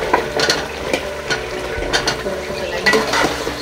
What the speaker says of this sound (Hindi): अब हम इसमें आलू शामिल कर देंगे और फ्राई करेंगे थोड़ा